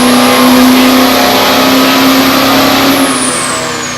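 A car engine revs hard and steadily at full throttle on a dynamometer, a loud sustained roar with a strong droning tone that holds throughout, easing slightly at the end.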